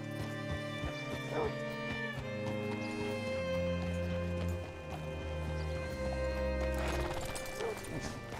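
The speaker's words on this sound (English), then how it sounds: "Hitch your horse up here." Horse hooves clopping over a musical backdrop in Red Dead Redemption 2, with a horse neighing partway through, game-style sound effects, no voices.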